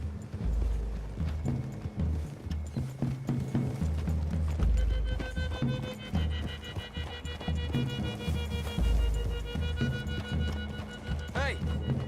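Horses gallop in Red Dead Redemption 2, a continuous rhythmic clatter of hooves running with a brief whinny near the end, heard close with music and game sounds around them.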